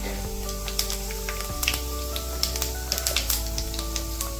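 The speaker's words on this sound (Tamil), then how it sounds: "எண்ணெய் இப்போ சூடு ஏறிடுச்சு. நம்ம வந்துட்டு இப்போ பெருஞ்சீரகம் போட்டுக்கலாம்." Fennel seeds crackle and sizzle in hot oil in a pan while a beef curry gravy is prepared, a steady close hiss dotted with sharp popping ticks over a low hum.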